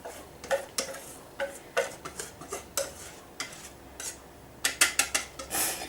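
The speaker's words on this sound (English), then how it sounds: "we place all the cream and we fold it into our egg mixture" Whipped cream is folded into an egg mixture for salted caramel semifreddo, giving a run of close clicking and scraping taps from a spatula against a bowl, irregular and crisp, with no voices.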